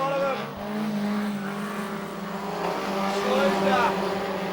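Junior sedan race cars, including a Datsun, howl around the Kingaroy Speedway track, their engine notes rising and falling as they run nose to tail, with a commentator talking over them.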